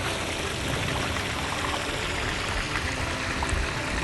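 Water runs from a Gold Cube pump in a continuous, even splashing stream that stays fairly close and steady the whole time, with no voices over it.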